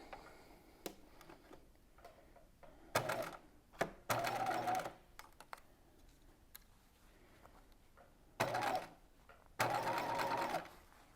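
A sewing machine runs a straight stitch along a bias strip on a waspie corset belt, heard in four separate loud bursts of rapid whirring separated by quiet pauses and small clicks.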